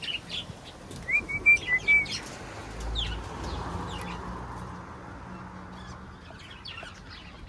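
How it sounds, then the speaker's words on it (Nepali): A few birds chirp in short bursts early on in a park in Malta, followed by quieter scattered tweets over soft outdoor background noise. "पार्कमा चाहिँ नि चराचुरुङ्गी छ है"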